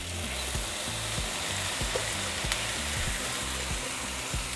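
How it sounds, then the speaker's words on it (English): Carnitas sizzle steadily in a hot pan, a loud constant crackling hiss with faint stirring underneath. "now we're just going to cook our carnitas until they're nice and golden"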